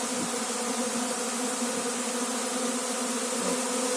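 Honey bees buzz steadily at a hive, a dense continuous drone with a few individual bees passing close by, no voices over it.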